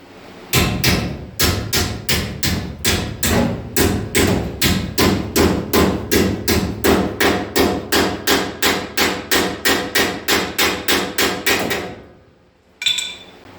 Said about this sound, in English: So I'll get that clamped in place there now and get that hammered into shape.